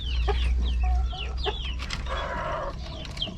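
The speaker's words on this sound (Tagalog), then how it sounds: "Siguro gutom na tong mga manok ko na to." Backyard chickens clucking in a cluster of short, busy calls close to the microphone, with louder bursts near the start and a steady low hum of background noise underneath.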